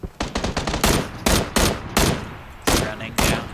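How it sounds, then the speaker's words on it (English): Rapid bursts of gunfire from PUBG battle royale gameplay, several loud automatic volleys and single heavy shots spaced irregularly, close and dominant with no talking. "Oh, there's another one shooting"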